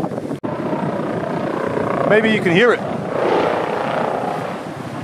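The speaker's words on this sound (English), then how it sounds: "We've got the police helicopter now circling above." A police helicopter circles overhead, its rotor drone steady and fairly loud with a rising and falling whine, while someone talks over it outdoors amid light wind.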